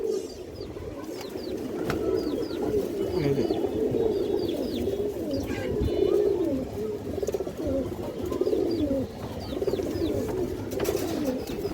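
Pigeons cooing continuously at a pigeon seller's loft, several birds overlapping in low, rolling coos with faint chirps above, steady and fairly close throughout.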